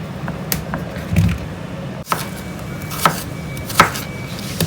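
A knife chops peeled, seeded golden cucumber into small cubes on a board, with several distinct, close taps spaced about a second apart and a sharp cut midway.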